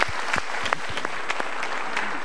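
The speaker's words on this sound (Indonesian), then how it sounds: "Ya, kita berikan tepuk tangan." A studio audience applauds in a brief, steady patter of clapping with a few distinct louder hand claps, no talking over it.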